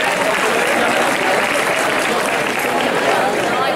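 Dense, steady applause from a large audience at a graduation ceremony, continuous clapping filling the hall with no breaks.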